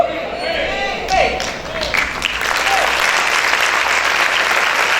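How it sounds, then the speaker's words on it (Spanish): A church congregation breaks into applause, dense clapping that swells and builds to a loud sustained roar, with a preacher's voice calling out over it at the start. "Si ese aplauso es para el Señor Jesús, déselo con fuerza, déselo con ánimo"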